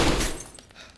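Gunshot striking a glass bottle in the DayZ video game, a sharp burst of breaking and shattering glass that fades over about a second.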